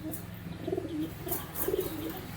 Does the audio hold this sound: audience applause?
no